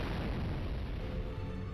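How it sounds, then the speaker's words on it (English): A video game explosion produces a dense, loud low rumble that fills the whole short stretch with no clear start or end, and no voices are heard. "And explosions."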